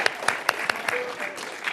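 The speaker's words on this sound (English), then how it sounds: "can we get one final massive round of applause for the effort and the learning" At an education seminar student showcase, a small audience claps in a brief burst of distinct, separate hand claps with a few sharp near ones, fairly light rather than a full roar.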